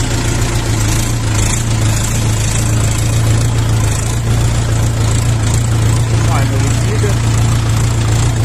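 A cold LOVOL 354 mini tractor engine idles steadily with a low, constant hum and a slightly uneven rumble, close by and loud throughout.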